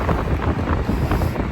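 Strong, cold wind blows outdoors in the UK, buffeting the microphone with a loud, continuous rumbling roar and no voices.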